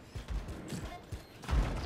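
Explosions and gunfire from the video game Anthem, a series of low thumping blasts with one heavier boom near the end, loud and close, with no one speaking over them.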